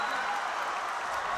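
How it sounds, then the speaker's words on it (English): A high school varsity boys basketball crowd in a gym, Gunn versus Paly, cheers and applauds steadily after a made shot, a dense continuous roar with no single voice standing out. "Now the Gunn crowd is getting back into this game."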